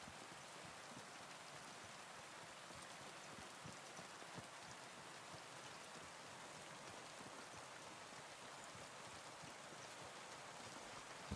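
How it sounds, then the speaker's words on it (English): Steady, dense rainfall in a video game, a continuous hissing downpour that stays even and fairly loud throughout with no voices. "The rain gets loud too."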